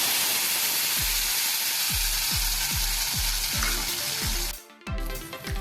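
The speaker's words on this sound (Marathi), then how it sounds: "त्यानंतर ह्याच्यामध्ये आपण टोमॅटोची प्युरी घालूया" Tomato puree added to hot oil with cumin, bay leaf, cinnamon, cloves and peppercorns for a potato-peas curry, a loud close sizzle with rhythmic scraping stirs, then a sharp burst of frying.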